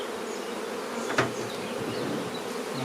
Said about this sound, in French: Dans le deuxième hausse, il y a des abeilles, mais il n'y en a pas beaucoup